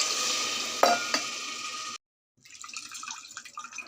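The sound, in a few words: water poured into pan of fried vegetables for khichdi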